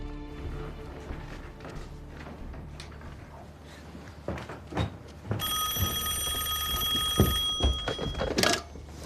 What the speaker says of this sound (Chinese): 参谋长，王副司令电话